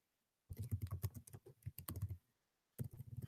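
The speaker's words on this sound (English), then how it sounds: "And I'm going to type in my text." Rapid keystrokes on a computer keyboard fall in two clustered runs split by a short pause, close and clear against silence, with no voices.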